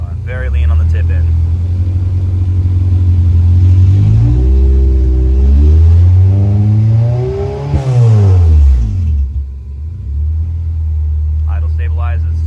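A Honda K24 engine revs during Fuel Tech tuning on a lean base map, its loud steady drone sweeping up and down in pitch through several long pulls before settling back toward idle.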